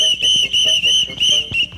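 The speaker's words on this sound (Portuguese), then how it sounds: "Me dá esse apito aqui." A shrill whistle is blown repeatedly in short, loud blasts with a steady pitch, each burst separated by brief breaths, in a lively town-square children's show scene.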